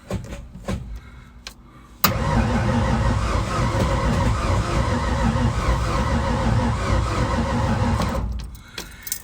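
A 1964 Mercury engine cold-starts with a sudden catch after a few faint clicks, then settles into a loud, rough, steady idle close by before cutting off near the end.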